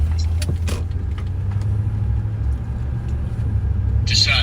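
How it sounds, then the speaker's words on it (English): A semi truck passes along a rural road during a storm chase in Illinois and Indiana, a steady, heavy low rumble that holds close and loud throughout, with a brief higher rattle near the end. "Just saw a semi truck go by."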